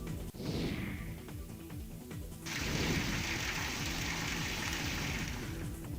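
Heavy first-of-season monsoon rain pours down in Karauli, a steady broadband hiss that swells louder and denser partway through and holds there, with no voices over it.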